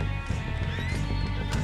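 A horse whinnies loudly and close in a Red Dead Redemption 2 roleplay, a strained, wavering neigh over a low rumbling game background with light hoof clatter.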